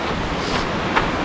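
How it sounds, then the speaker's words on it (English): Steady rushing of a mountain stream on the Seven Bridges Trail in Colorado Springs, a loud, close, unbroken wash of flowing water. "I'm drinking from a stream."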